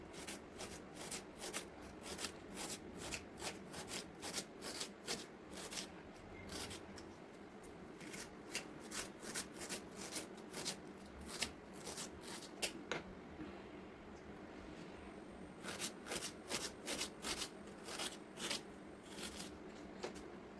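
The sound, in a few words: large onion being cut into small pieces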